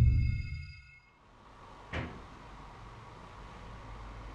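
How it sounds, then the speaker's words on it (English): A single sharp knock rings out on a wooden display cabinet in a quiet haunted museum, heard once against faint room noise. "could you go and knock the cabinet that you like?"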